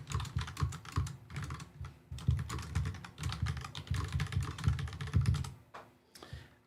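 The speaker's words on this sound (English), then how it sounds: "I'm typing to Brian in the background." Quick, steady typing on a computer keyboard fills the whole stretch, with dense clusters of key clicks that break off briefly near the end, with no talking over it.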